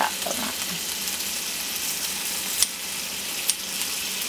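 Onions frying in a pan for a pasta dish, a steady close sizzle running the whole time with two sharp clicks of a utensil partway through, and no voices.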